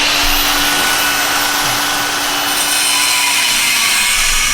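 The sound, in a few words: angle grinder with cutoff wheel cutting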